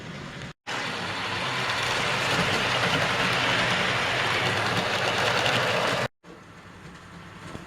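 A B17 model railway locomotive runs along a loft layout track with a steady mechanical whir and rattle that cuts out abruptly at both ends.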